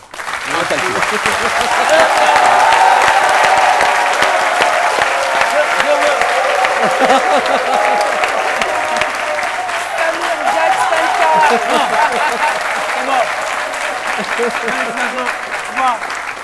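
A television studio audience applauds warmly for a painter's work, a dense, continuous round of clapping that swells early and stays loud throughout, with faint voices mixed underneath.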